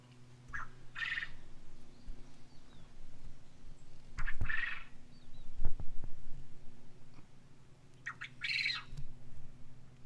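Guinea fowl in a front yard garden give several loud, harsh squawks in bursts at irregular intervals, with steady low background noise and no talking.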